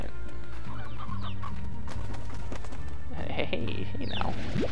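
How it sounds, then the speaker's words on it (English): A hen clucks in the video game Slime Rancher, a few short clucks over steady game music and ambience. "This one's just a normal hen."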